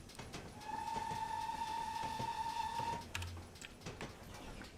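Steam locomotive in Train Simulator 2020 on a custom route approaching a station, a steady mechanical rumble under a long sustained whistle-like tone, followed by a brief clank.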